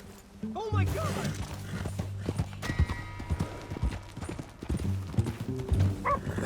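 Horse hooves clip-clop steadily in Red Dead Redemption 2, close and fairly loud, mixed with a low tonal game score and people talking over them.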